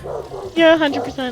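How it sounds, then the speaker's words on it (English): Dogs bark and yip at home close by, a couple of sharp, harmonic barks coming through right after a short spoken remark. "I'm sorry about my dogs, by the way. They won't shut the fuck up."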